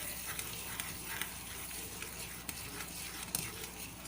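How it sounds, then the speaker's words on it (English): Semolina (rava) being stirred into boiling milk in a pan while making sheera, giving a steady bubbling sizzle with soft scraping stir sounds throughout, fairly quiet and without talk. "You have to add slowly and keep stirring it"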